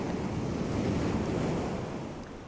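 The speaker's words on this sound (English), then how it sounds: "Listen to the sea." Sea waves in a film adaptation of Rebecca, a continuous rushing wash of surf mixed with wind, loud and steady before easing slightly toward the end, with no voices.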